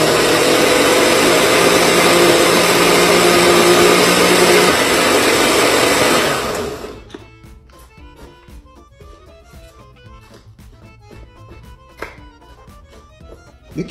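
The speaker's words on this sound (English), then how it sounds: "Or I may have to use my powerful blender over there, the commercial one." A powerful commercial blender whirs loudly and steadily for about seven seconds, then cuts off abruptly, leaving faint kitchen clatter and light knocks.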